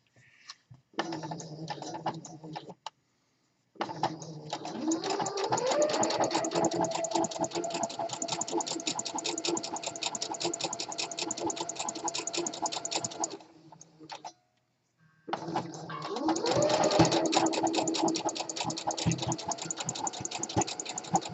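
A sewing machine stitches elastic into a waistband in two long, steady runs, each a close, rapid whirring chatter. The runs are separated by brief pauses, and a short burst of stitching comes near the start.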